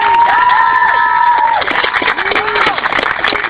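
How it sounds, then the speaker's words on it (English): A workshop audience at a Chicago protest camp conference claps and cheers, with sustained whooping and shouted voices over dense applause, loud and close throughout. "Please give another round of applause to Grace."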